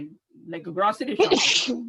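A single sharp sneeze bursts out near the end, loud and close, right after a woman's casual conversational speech.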